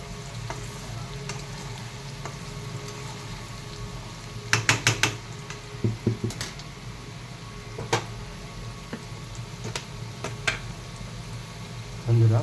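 Pieces of rohu fish frying in a pan with a soft, steady sizzle, broken by several sharp clicks and scrapes as a utensil stirs them, with a low hum underneath.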